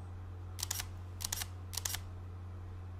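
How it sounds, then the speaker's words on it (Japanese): An Olympus E-P5 camera shutter fires from half-press to full-press three times: three crisp, close clicks, each a quick double snap, evenly spaced over a steady low hum. "半押しから シャッター全押しした瞬間 により早くですねシャッターが切れる"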